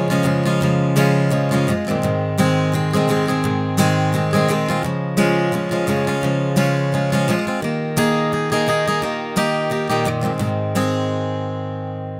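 An acoustic guitar plays the bridge section of a song, strummed chords ringing loud and close in a steady rhythm, ending on a sustained chord.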